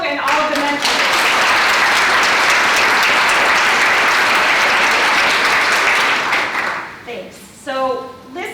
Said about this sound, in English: let's have a round of applause for our organizers and for all of you and all of the mentors